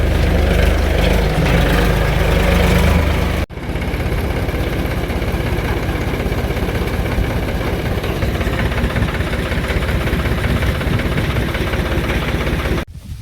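A tractor engine runs with a trolley attached on a farm, a loud, close diesel chug with knocking vibration, cut by two abrupt breaks in the recording.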